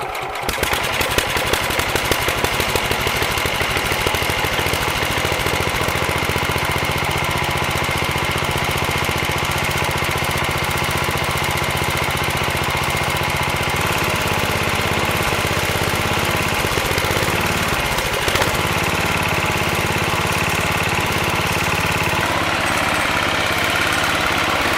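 The engine of a Sears Suburban lawn tractor, running on a carburetor with a grease fitting stuck in it, idles with a loud, rough, rapid knocking putter that holds steady throughout, close by and with no talking.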